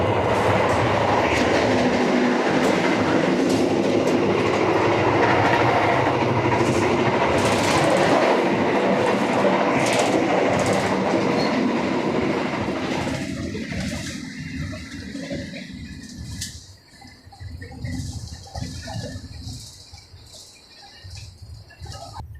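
An Argo Dwipangga passenger train between Jakarta and Jogja rolls along the tracks in a continuous loud rumble with rhythmic clatter, heard from inside an executive carriage; the noise drops and becomes quieter and muffled partway through.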